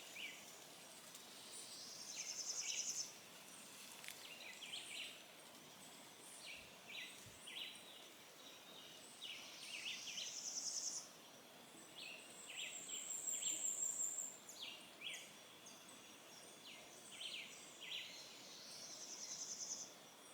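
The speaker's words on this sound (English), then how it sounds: "I'm gonna sit out here taking in the birds and their sounds and God's creation" Birds chirp and call repeatedly in a quiet countryside in Jamaica, with a steady faint background of insects buzzing and trilling; the bird notes come in scattered bursts, moderately distant.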